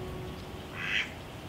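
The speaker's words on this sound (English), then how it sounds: "a male mallard with iridescent plumage greeted us with his quack" A male mallard drake on a riverside bank in the Norfolk Broads gives a single clear quack near the middle, moderately close, over soft outdoor background noise.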